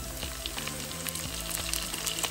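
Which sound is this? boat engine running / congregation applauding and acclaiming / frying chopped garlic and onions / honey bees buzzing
frying chopped garlic and onions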